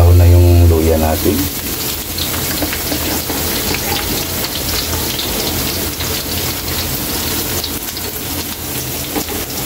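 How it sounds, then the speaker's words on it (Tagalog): Garlic hits hot oil alongside browned ginger for beef papaitan, setting off a loud, dense, steady sizzle that continues to the end; a low hum fades out in the first second. "ilagay na natin yung bawang dahil nag-brown na yung luya natin."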